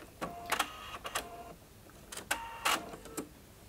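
A sewing machine runs in several short, close bursts with brief pauses between them as it stitches backward to lock the end of a seam through three fabric layers of a shirt yoke.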